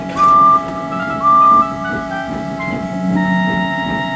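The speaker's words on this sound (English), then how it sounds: "Edward puffed in fast, whistling to Thomas to get his attention." A steam locomotive whistles in a Thomas the Tank Engine story as two short, loud, clear toots, one after the other, over a soft musical background.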